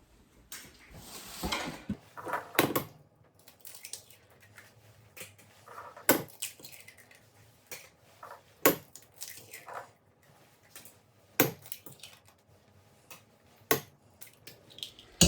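Six eggs cracked one after another against a bowl edge for a gingerbread bread pudding, heard as sharp, sparse knocks and taps spread through a quiet kitchen, with a brief rustling burst near the start.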